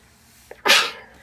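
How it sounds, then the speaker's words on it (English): A single sharp sneeze, preceded by a brief quick inhale, close and loud against a quiet background. "I'm gonna sneeze."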